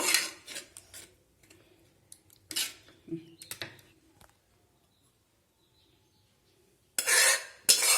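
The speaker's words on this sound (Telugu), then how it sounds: "ఒకసారి ఇలా కలుపుకునేద్దాము" A spoon scrapes and clinks against a bowl while mixing in water, in short, irregular bursts, then goes quiet before two more vigorous stirring scrapes.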